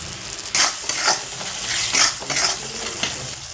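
Chopped tomato with turmeric, chilli and coriander powders fries in a pan for a mrigel fish curry, with a constant hiss broken by several sharp scraping stirs, close and fairly loud.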